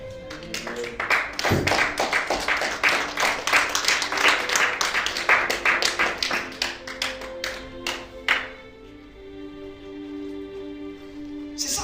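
Congregation applauding during a French-language church worship service, dense rhythmic clapping from many hands filling the room for about eight seconds, then fading to scattered claps over lingering sustained tones.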